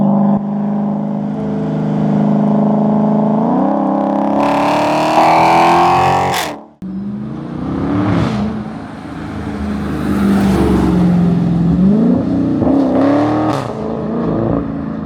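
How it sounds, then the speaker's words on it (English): A 2023 Dodge Charger Scat Pack's exhaust, fitted with Vibrant 1794 resonators in place of the mid mufflers, revs hard, the engine pitch climbing repeatedly, then a short cut before more loud, rumbling revs. "one of the things that I really love about the Scat Pack is the sound of the exhaust"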